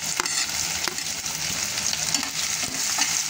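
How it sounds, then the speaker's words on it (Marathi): Two large finely chopped onions sautéing in a pan with crushed ginger, a steady close sizzle and crackle with occasional clinks of a stirring spoon, no talking. "आता कांद्याला आपल्याला चांगलं परतू द्यायचं आहे, कलर चेंज होईपर्यंत"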